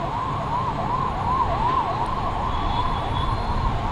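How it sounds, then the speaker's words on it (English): An ambulance siren wails in a repeating rising-and-falling pattern, moderately distant, over steady traffic rumble. "now you can hear the ambulance noise."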